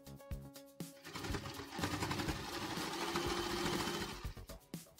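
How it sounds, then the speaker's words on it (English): A sewing machine stitches fabric for a non-stretch turban headband, starting with a few short bursts and then settling into a continuous, close whirring run before stopping and restarting briefly. "stitch here and here to secure the fabric."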